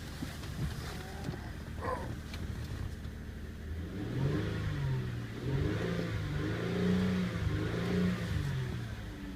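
A 2008 Ford Fusion with a 3.0 engine runs on a test, first idling as a steady low drone, then revving in repeated rising and falling swells over the second half, close and fairly loud with no talking.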